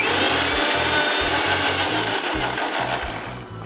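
A kitchen blender whirs continuously while mixing a banana and apple milkshake with milk, a loud, steady motor drone with pulsing chunky rumble as the fruit churns, running alone without talk.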